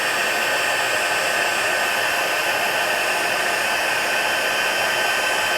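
Heat embossing tool blowing hot air over embossing powder on watercolor paper, a constant, loud whirring blower hiss with a steady motor whine, unbroken and alone with no talk.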